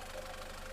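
A SsangYong Korando Sports engine idles after a water pump and damper pulley replacement, giving a steady, even mid-range hum with faint knocking texture, heard close and alone.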